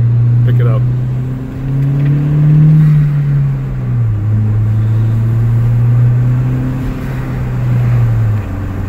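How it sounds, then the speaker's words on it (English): Hyundai Genesis with an aftermarket intake and stock blow-off valve revving, a steady low engine drone rising and falling in pitch, loud and close, with no talking over it. "This is just intake, stock blow-off valve."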